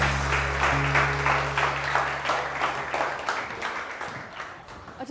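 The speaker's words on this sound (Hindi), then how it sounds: "बहुत सारी तालियां" Studio audience applause on a morning TV show, a dense, loud wash of clapping that starts full and gradually thins out toward the end.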